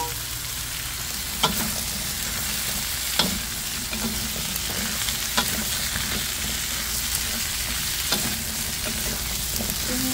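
Squash sizzles in hot oil in a pan while being stirred, a steady frying hiss broken by several sharp scraping clacks of the utensil, close and with no talk.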